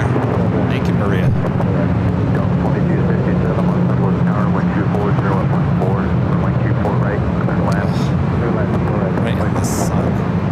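A warbird aircraft passes over LAX, its steady, dense engine roar continuous and loud throughout, with wind buffeting and people talking over it.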